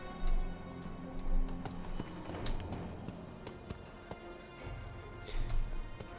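Cavalry horses galloping across a battlefield in the strategy game Total War: Three Kingdoms, with a dense, rumbling patter of hoofbeats, occasional impacts and crashes, and surging battle noise throughout.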